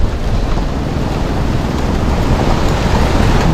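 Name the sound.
strong wind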